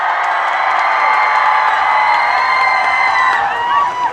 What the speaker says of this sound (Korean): 맞다고 생각하시면 박수 한번 쳐주세요.